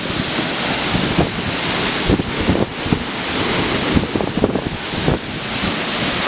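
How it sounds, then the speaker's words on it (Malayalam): Njandirukki waterfall in Thodupuzha, Idukki, Kerala, pouring down from a height, heard as a loud, continuous roar of rushing water with gusts of wind buffeting the microphone. "നല്ല ഹൈറ്റിൽ നിന്നാണ് ആ വെള്ളം വന്ന് താഴേക്ക് വീഴുന്നത്"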